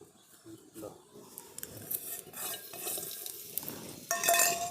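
Crushed garlic hits hot mustard oil for a tempering: soft stirring and utensil clinks over a light sizzle that swells into a louder, bright crackle near the end.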